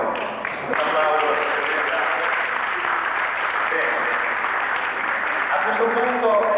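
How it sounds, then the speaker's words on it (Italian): An audience at an outdoor stage show in 1988 applauds steadily, with continuous clapping and a voice speaking over it at moments. "Un applauso."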